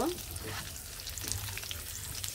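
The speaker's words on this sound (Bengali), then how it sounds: "আমি ঘিয়ের সাথে এটা ভালোভাবে একটু নাড়াচাড়া করে আমি এখানে কিশমিশ দিয়ে দিচ্ছি।" Raisins fry in hot ghee with a constant close sizzle and occasional stirring scrapes, cooked for Eid zarda pulao.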